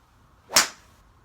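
A single sharp, muted thwack of a 3 wood striking a golf ball, brief and fairly close, in otherwise quiet surroundings.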